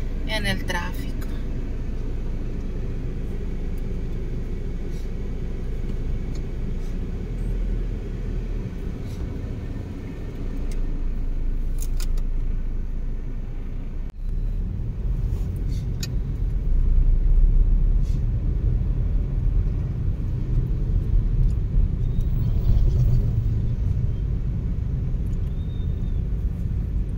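Road traffic in Mazatlán, Sinaloa during Holy Week, a steady low rumble of cars and engines heard from inside a vehicle, continuous throughout with people talking over it.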